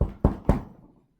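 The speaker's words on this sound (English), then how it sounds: "there was a knock at the door" Two sharp knocks at a door, about a quarter second apart, close and fairly loud, each with a short hollow decay before silence.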